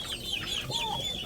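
Chickens and turkeys clucking and squawking close by as the chickens squabble, a busy, continuous chatter of fowl with a few sharper calls over steady background noise.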